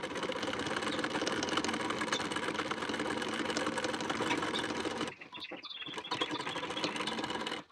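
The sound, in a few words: sewing machine stitching along the blouse collar edge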